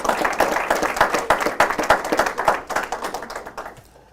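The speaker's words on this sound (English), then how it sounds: "please help me by giving these students and many of the other ones a round of applause." Audience applause for students at an Albuquerque city news conference: dense, steady clapping from a room full of people, loud and close, thinning and fading out near the end.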